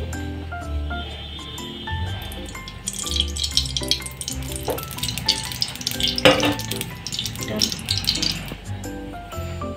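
Hot oil crackles and sizzles in a pressure cooker, a steady frying hiss with clinks of utensils, under a voice talking nearby.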